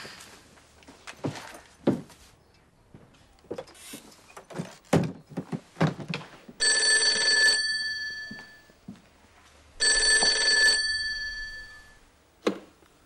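Telephone bell ringing in a household scene, two bursts of sustained electronic ringing heard after stretches of soft footsteps and door sounds, fairly close and clear with no talk over it.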